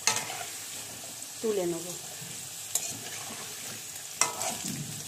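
Potatoes frying in oil in a pan, a soft continuous sizzle broken by a few sharp spatula scrapes and stirs, close by, with someone briefly speaking over it.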